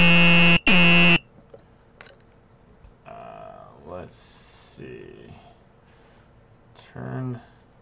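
Two loud, sharp electronic beeps from an HW-512 Arduino buzzer module open the clip, followed by quieter speech and a faint higher tone.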